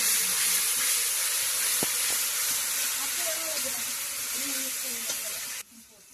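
Onions sizzle and hiss steadily in hot oil as tomato paste goes in, a broad close frying noise with faint scraping and clinks, dropping quieter near the end; a fish curry being cooked outdoors.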